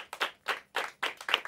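An audience at a Hindi quiz final claps for the fourth-place team in five quick, evenly spaced bursts of close, fairly loud handclaps, with no talk.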